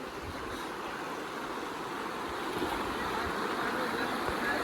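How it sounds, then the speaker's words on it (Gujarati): Flowing stream water at a bathing spot by Vaksha Mahadev temple makes a soft, continuous, even rush. It stays steady and fairly quiet throughout, with no talk over it. "આ પાણી વહેતું પાણી છે, વહેતું."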